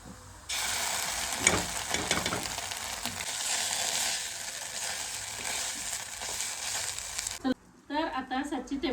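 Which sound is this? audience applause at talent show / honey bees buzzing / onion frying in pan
onion frying in pan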